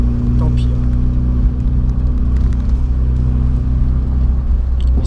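A Honda race car's engine idles loudly and close by in a steady, low, rumbling drone that holds throughout, with no clear revving.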